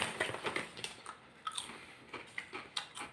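Chipster's hot jalapeño potato chips crunched up close: a quick series of sharp, crisp bites and chewing crunches in an irregular rhythm, fairly quiet with no talk.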